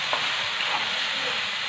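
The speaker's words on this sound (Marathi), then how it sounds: "मध्ये मध्ये असं झाकण काढायचं आणि ही भेंडीची भाजी अशी हलवून घ्यायची" Okra stir-fry is stirred in a hot pan on low heat, a steady close sizzle and hiss with faint scraping as the vegetables are moved.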